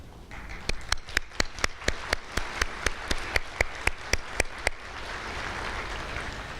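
Clapping at a university commencement ceremony comes as one close, sharp pair of hands beating a fast, perfectly even rhythm of about twenty claps. It then stops abruptly, leaving a soft wash of crowd noise.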